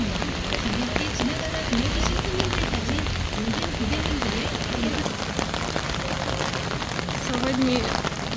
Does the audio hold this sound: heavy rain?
yes